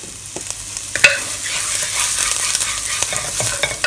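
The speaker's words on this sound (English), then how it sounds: "Stir them for a minute or two, or until fragrant." Star anise stir-fried in hot oil in a wok, a loud close sizzle with repeated scraping strokes of a spatula and a few sharp metallic knocks, steady throughout without talk.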